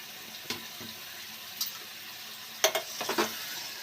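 Mutton dropped into hot oil in a pan for curry sizzles quietly under a low background hiss, with a few sharp clatters of stirring and utensil knocks scattered through.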